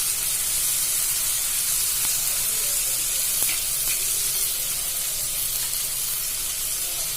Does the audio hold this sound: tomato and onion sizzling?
yes